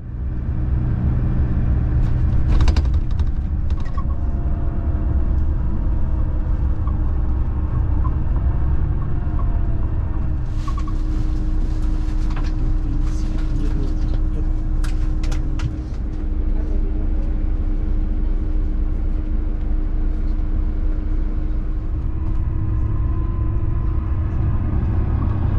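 A bus drives along near Leeds bus station just off the M621, with a steady low engine rumble and road noise throughout, plus occasional brief higher clatters and rattles from the vehicle.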